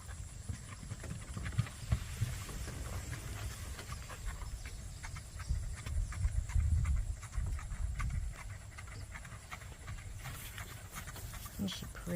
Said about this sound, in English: Comes Jolene around the track doing her super duper duper smooth gait.